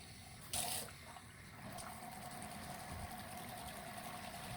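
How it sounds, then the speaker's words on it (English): Water from fully open taps rushes steadily into a bath and drains away, a continuous faint gushing and gurgle after a brief splash near the start. "all the water is draining away, and that's with the taps fully open"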